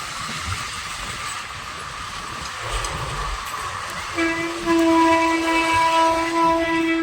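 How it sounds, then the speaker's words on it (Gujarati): A train rumbles steadily past nearby, and a long, loud horn blast sounds in the second half. "જો ટ્રેન નીકળી છે ભાઈ અહીંયા"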